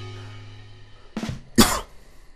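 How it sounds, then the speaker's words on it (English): Two harsh, close coughs, loud and right up against the microphone, after a quiet moment with a faint hum. "I'm like coughing right into the fucking microphone"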